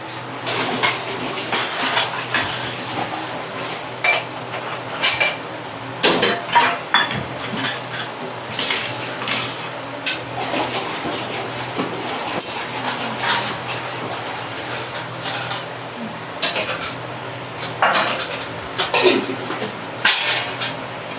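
Dishes, pots and cutlery clink and clatter in irregular bursts as they are handled and set down, close by.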